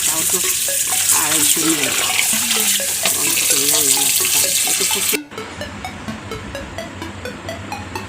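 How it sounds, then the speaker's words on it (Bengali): Fish being washed at an outdoor tap, running water splashing and sloshing with hands rubbing, loud and close, the flow dropping to softer trickling and dripping partway through. "আমার শাশুড়ি মা মাছ ধুতে বসে পড়েছে"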